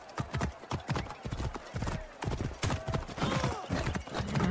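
Hooves clip-clop in a steady, rhythmic gallop as a horse is ridden in Assassin's Creed Origins, loud and close, with a faint whinny and scattered game voices in the background.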